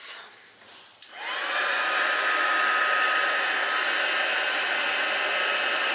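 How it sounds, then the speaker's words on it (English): A hair dryer switching on to dry a collage page in a junk journal, starting with a click and spin-up whine, then blowing steadily and loudly close by. "Let's dry it off."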